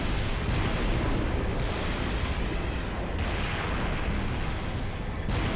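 Tank cannon fire and explosions in a combat video game form a dense, loud, continuous barrage of heavy booms and rumbling blasts with no voices over it.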